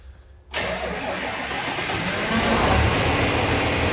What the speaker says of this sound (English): pull the throttle lever down a little bit. Now give her a crank.